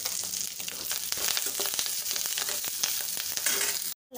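Curry leaves fry in a little oil in a pan, giving a steady loud sizzle with scattered crackles and pops for about four seconds before cutting off abruptly.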